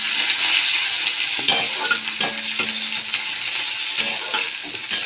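Food fries in a pan in a home kitchen, giving a steady loud sizzle broken by scraping stirring strokes, with no talk.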